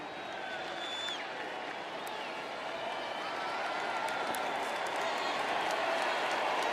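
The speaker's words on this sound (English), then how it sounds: "Appreciative round of applause from the Georgia fans" Georgia fans in a stadium at the 2019 Sugar Bowl against Baylor applaud in a broad, distant roar of clapping and cheering that builds gradually, with the crowd swelling louder toward the end.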